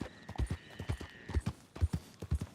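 Horse hooves clip-clop in a steady, evenly spaced walking rhythm, each strike close and distinct, about a dozen falls heard alone with a faint hum behind.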